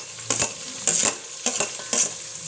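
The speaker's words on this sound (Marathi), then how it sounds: "कांदा लाल होईपर्यंत हे तेलामध्ये चांगले परतवले जाईल" Onion sautéing in oil with bay leaf pieces for homemade chicken biryani, a close background sizzle broken by four regular scraping strokes of a spoon against the pan, no voices.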